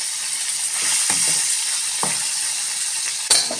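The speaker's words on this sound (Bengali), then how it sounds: "তো বাকি মাছগুলো দেখো ভেজে নিচ্ছি আমি আস্তে আস্তে" Fish fry in oil in a thin kadai, a loud continuous sizzle near the microphone broken by a few soft scrapes and clinks of stirring, with no talking.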